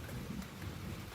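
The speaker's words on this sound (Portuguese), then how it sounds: "Tá chovendo bastante." Heavy rain pours at night during a flooding storm in Piauí, a dense, steady hiss of falling water with a low rumbling undertone, close and continuous, with no voices.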